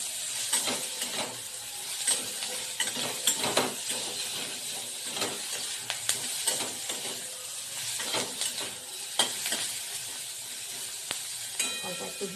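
Spices and garlic fry in a pan for a kadai paneer dish, giving a steady, quiet sizzling hiss dotted with small crackles and occasional utensil clinks.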